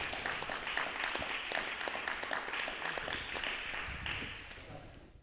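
An audience at the closing event of a music festival applauds a performer, a dense, even wash of many hands clapping from the hall that holds steady and then thins out near the end.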